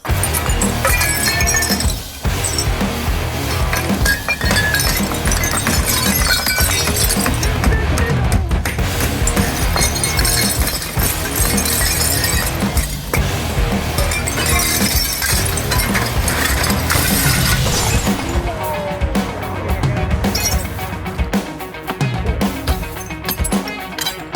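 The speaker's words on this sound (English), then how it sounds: "gonna break the rest of the window out so he can take out the barbershop sign" Old storefront window glass being knocked out of a former barbershop front, with continuous crunching, clinking and shattering shards over about twenty-four seconds, steady and close with no talk.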